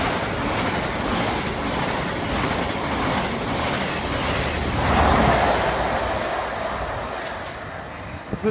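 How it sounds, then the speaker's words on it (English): A class 43 train runs through Stevenage station in the rain, a broad rushing roar that swells to a peak midway and then slowly fades, heard from the platform with no voices. "We got a class 43 coming up."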